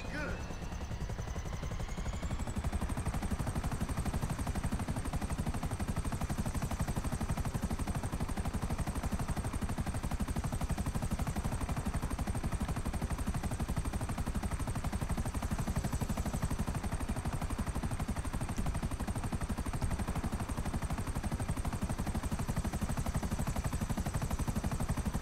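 Helicopter in a video game spooling up and then flying, a loud steady rotor and engine drone with a continuous high whine, unbroken and up close throughout.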